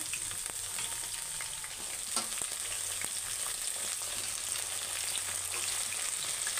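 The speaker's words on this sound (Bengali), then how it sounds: "এখন আমি দিয়ে দেবো এখানে সজনা ডাঁটা" Drumstick vegetable pieces fry in hot oil with browned potatoes, a steady close sizzle with occasional light ticks and clicks of stirring, no talking.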